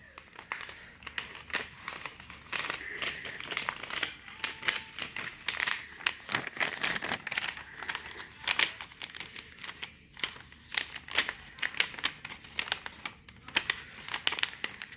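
A sheet of paper folded into a paper plane, heard close up as soft crinkling rustles, creases pressed down and scattered crisp paper snaps in irregular bursts, with no talking.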